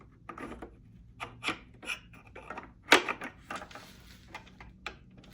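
Motorcycle headlight guard mount for a BMW R1250GS Adventure being slid into place by hand, a series of faint, close scraping and rubbing contacts with one sharper knock partway through.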